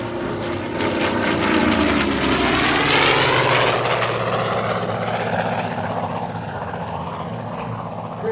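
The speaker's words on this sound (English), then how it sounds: "he'll be traveling at close to the Corsair's top speed of 472 miles per hour" A CAF FG-1D Corsair fighter, an F4U-type propeller warplane, roars past at near top speed during the 2012 Tuscaloosa Regional Air Show, a loud engine and propeller drone swelling then sliding down in pitch as it recedes.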